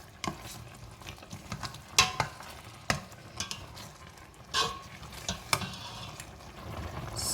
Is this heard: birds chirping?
no